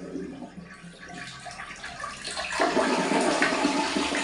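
Water pours steadily from a shower, a continuous close hiss that swells louder partway through, with no talking.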